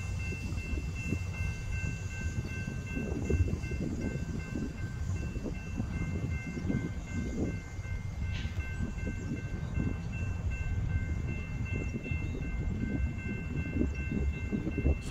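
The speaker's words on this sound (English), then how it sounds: "sound like you got a DPU throttling up" A low, steady rumble of heavy diesel engines as a mid-train DPU locomotive on a BNSF freight train throttles up, builds and holds, a continuous industrial drone with faint higher whine over it, heard from a moderate distance.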